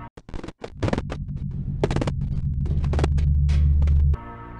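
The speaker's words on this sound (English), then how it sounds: "electric static from cameras," Crackling electric static from the security cameras in the video game Five Nights at Freddy's: sharp broadband bursts and buzzing, then a sustained loud buzzing hum that cuts off abruptly, heard alone.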